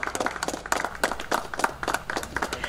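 A small crowd claps at the reopening of a cooperative agency branch. The clapping is brisk and uneven, fairly close, and runs throughout.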